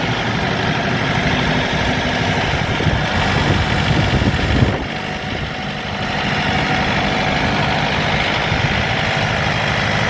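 A Shifeng 404 40-horsepower mini tractor engine runs steadily close by, a continuous low rumble with a brief dip in the middle before settling back.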